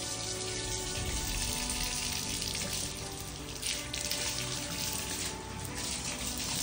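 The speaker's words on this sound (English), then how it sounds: "I'm finally gonna take a hot shower, though." A hotel shower runs hot water in a steady, close, continuous hiss and spatter that holds evenly throughout, with no voices.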